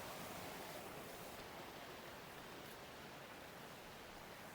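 Steady dense rush of a waterfall and stream flowing through a wooded hidden spot in Uttarakhand, a constant broadband roar with no breaks, no voices.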